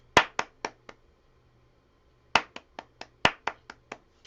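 Close hand claps in a quiet room: a short run of four evenly spaced claps, a pause, then a quicker string of about eight claps at a brisk, steady pace, demonstrating eighth notes in a beginner music lesson.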